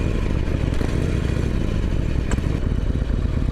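A Harley-Davidson Iron 1200 motorcycle on a test ride, its engine droning loudly and steadily at cruising speed with wind and road rumble, heard up close from the rider's position.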